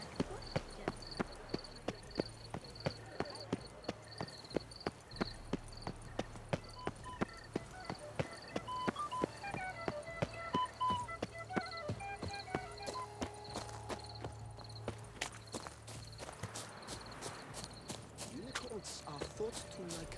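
A horse's hooves clip-clop in a steady, even rhythm in The Witcher 3: Blood and Wine, in Toussaint, close and clear over a quiet music bed for the whole stretch.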